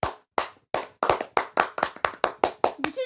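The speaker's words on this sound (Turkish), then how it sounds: "Alkış alalım." Close, sharp hand clapping from one or two people while playing a Roblox train game, about a dozen distinct claps in an uneven rhythm, some doubled, with a short vocal sound at the very end.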